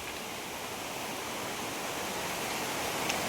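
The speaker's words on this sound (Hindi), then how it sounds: "वाटरफॉल छोट वाटरफॉल" A small waterfall pours with a constant, even rush of falling water that stays steady and close throughout, with no other sounds on top.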